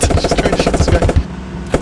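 Automatic gunfire from a Stryker MGS armored vehicle in the Squad video game, a fast, loud run of repeated shots that pauses briefly and then starts again.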